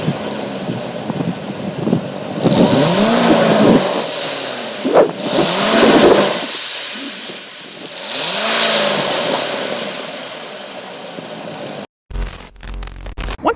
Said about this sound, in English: And like I promised, here's that exhaust clip.